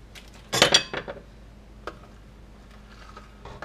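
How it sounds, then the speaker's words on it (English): A spoon stirs hop pellets into a homebrew beer boil pot from a one-gallon kit, giving a cluster of close metallic clinks and scrapes against the pot, then sparse lighter taps over a low steady hum. "Give it a nice little stir."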